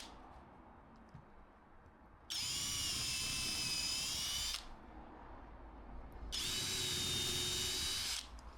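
A power drill drives small countersunk screws into a wooden jig in two loud, whining bursts of about two seconds each, separated by a quieter pause with faint rustling.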